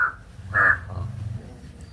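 A couple of crows caw nearby, two short harsh calls separated by a brief pause, over a low background rumble.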